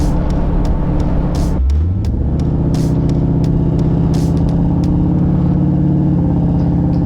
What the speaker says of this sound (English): You realize we're sitting in Sunday traffic with an 850 double pumper, a 540-inch big block